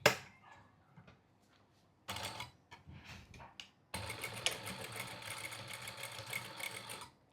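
A sewing machine runs in two steady bursts while stitching a blouse tassel, the second burst longer and busier, with quiet handling noises between them.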